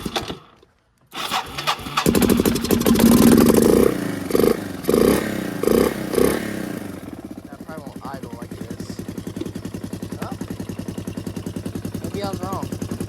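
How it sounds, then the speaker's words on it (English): A four-wheeler with a freshly cleaned carburetor cranks and starts after starting fluid, revs in a few loud bursts, then settles into a steady, rapid idle chug. It is close and loud. "I started a four-wheeler."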